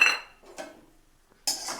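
Whole green cardamom, cloves and black peppercorns drop into a metal kadhai with a sharp clatter and rattle at the start, a softer patter in the middle, and another burst of clinking near the end, close and with no talk.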